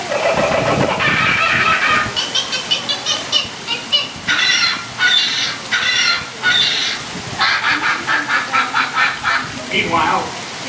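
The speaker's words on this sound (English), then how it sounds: "Suddenly, the treetops explode in a frenzy of outraged birds." Outraged birds squawk and honk in a frenzy from the treetops during the Enchanted Tiki Room show at Walt Disney World, a dense run of repeated bursts of bird calls laid over the show's background sound.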